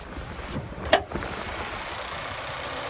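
2025 Nissan Sentra SR with a 2-liter naturally aspirated four-cylinder idling in the engine bay, a steady low hum with a brief rise and a short click near the start, no talk.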